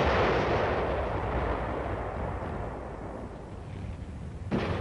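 Artillery fire in a Korean War newsreel booms as a dense, rumbling roar, loud and sustained, with a sharper burst near the end.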